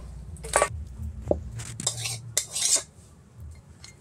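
A cooking pot of sour fish curry made with tangra fish, prawns, black tamarind and mustard oil is lifted off the stove in a village kitchen, with a few close metallic clanks and scrapes of utensils against the pot.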